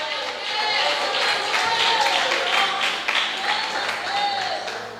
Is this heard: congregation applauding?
yes